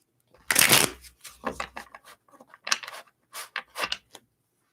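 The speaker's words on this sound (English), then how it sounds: "One more shuffle here." Tarot cards being shuffled by hand, a dense riffling burst near the start followed by several shorter crisp card flicks and slides, close and fairly loud, with no talking.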